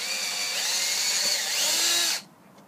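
A high-pitched power drill drilling holes in a box whines steadily for about two seconds, loud and close, then cuts off abruptly into quiet.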